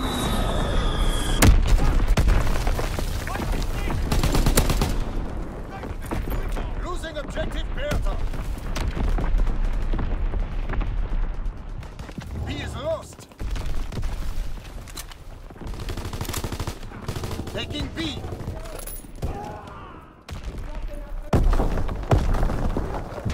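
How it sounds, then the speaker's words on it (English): Artillery battery firing with explosions in a war video game, a dense run of booms, thuds and gunfire bursts rolling continuously under and between speech from game announcer voices. "Firing battery one. Target position confirmed."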